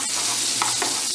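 Onion sizzles briskly in a hot pan, a close, continuous hiss with a couple of soft stirring scrapes, no voices over it.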